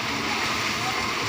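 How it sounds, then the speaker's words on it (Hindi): Water sprays and splashes from a remote-operated machine in a steady, loud hiss that covers the whole stretch, with someone talking over it. "पानी उड़े।"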